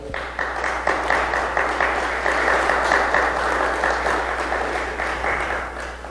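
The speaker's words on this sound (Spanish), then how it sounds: "Así que denle un aplauso al Señor, por favor." Sustained applause from a church congregation, dense steady clapping over a low hum, carrying on for several seconds before easing slightly.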